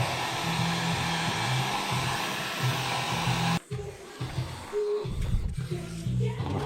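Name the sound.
heat gun heating protective film on mountain bike rim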